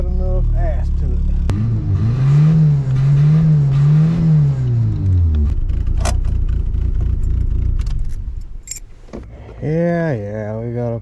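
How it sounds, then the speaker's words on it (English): Small four-cylinder engine on big tires cranking and struggling to turn over, a loud laboring starter whir that rises and falls for several seconds, then stops, with a short second crank attempt near the end and people talking nearby. "it just don't want to turn them big tires over. A little 4-cylinder just ain't got enough ass to it."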